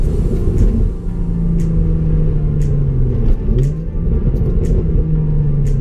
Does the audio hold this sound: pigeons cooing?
no